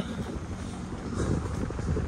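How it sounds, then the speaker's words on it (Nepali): Strong wind sweeps across Umbrella Beach and buffets the microphone in a continuous, loud, rumbling roar that swells slightly toward the end, with no clear talking. "आज खतरा हावा आइरहेछ"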